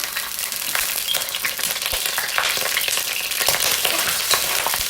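Garlic and ginger fry in a hot wok, a loud, dense crackling sizzle with sharp spattering pops throughout, no talking.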